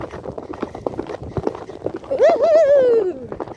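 Hooves of a small stallion at the stables clip-clop steadily under a rider's cheering voice, with a brief whinny-like sound near the end.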